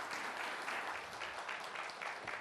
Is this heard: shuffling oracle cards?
no